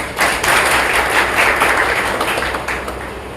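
Applause from an audience at an Additional ASP's press conference with a Tazia committee, a dense sustained clatter of many hands clapping at fairly steady loudness, fading slightly at the end.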